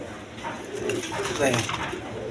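A pair of pigeons, a racer hen and a rajgolla cock, cooing in soft low rolling phrases close by, with someone talking over the coos.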